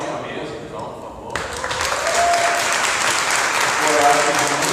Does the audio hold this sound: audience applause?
yes